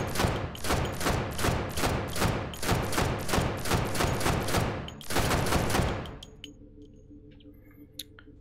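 Rapid automatic gunfire firing tracer rounds in the VR game Hot Dogs, Horseshoes & Hand Grenades: a loud, evenly spaced burst of about a dozen sharp shots, a short pause, a few more, then quiet ringing with faint clicks.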